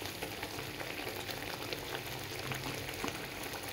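Water with dalia and jaggery boils hard over a high flame, a dense, steady bubbling and sizzling that stays close and constant throughout.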